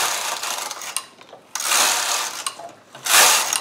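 A Studio 150 Chunky knitting machine knits a row of stitches, its carriage making three long, loud, rasping mechanical sweeps close by, each separated by a short pause.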